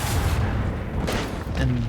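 The Starbreaker Lance fires in Rogue Trader during a space siege, loud booming weapon bursts with heavy low rumble and a couple of sharper cracks near the end.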